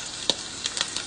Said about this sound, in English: We're going to fry this up really nicely.